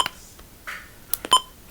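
Short electronic button beeps from a Midland WR400 weather alert radio, a few sparse clicks and tones ending in a clear, close beep, with no other sound.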